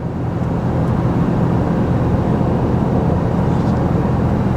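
A Ford F150 PowerBoost hybrid truck engine held at high revs in third gear while towing a heavy load up a steep grade, a loud, steady broadband roar throughout with no gaps.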